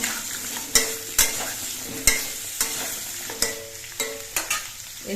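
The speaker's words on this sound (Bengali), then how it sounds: "অল্প করে সবজি দিয়ে আমি নেড়ে চেড়ে মিশিয়ে নিচ্ছি" Vegetables frying in a pan for a lightly spiced vegetarian dish, with a soft sizzle under about ten sharp scraping stirs spaced irregularly, close and fairly loud.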